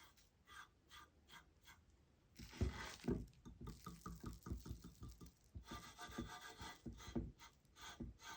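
Glitter chalk paint is rubbed and pressed onto polymer clay by hand, producing soft, close scratchy strokes in a steady back-and-forth rhythm, quiet at first and then busier and louder.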